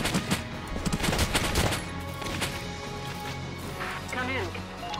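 Gunfire in Valkyria Chronicles, rapid cracks clustered in the first two seconds over a steady battlefield drone, then fainter under a brief voice near the end.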